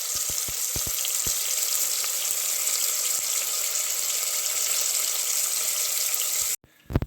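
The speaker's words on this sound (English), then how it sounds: "Let's go ahead and get these in and start searing." Birria meat sears in a hot Instant Pot with a loud, continuous close sizzle and a few early pops and crackles, cutting off abruptly near the end.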